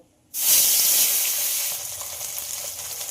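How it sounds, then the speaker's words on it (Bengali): A loud burst of sizzling as salt-and-milk-marinated fish hits hot mustard oil, settling into a steady, crackling fry with no voices. "তেলটা গরম হয়ে গেছে এবার লবণ দুধ মাখিয়ে রাখা মাছগুলো ভেজে নেব"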